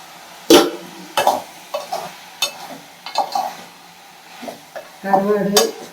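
Dried anchovies stir-fried in hot oil in a pan, with a utensil scraping and knocking against the pan in irregular bursts over a soft, steady sizzle.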